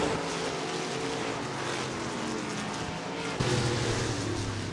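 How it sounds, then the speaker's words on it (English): Stock cars racing around the back straightaway at Stuart Speedway during a Whole Hog 50 heat, a dense, steady engine roar from several cars at middle distance that swells slightly near the end. "Jerevitz, Biss, Murdy, and Jonathan Logue, your top 5 cars on the back straightaway for the final time of this one."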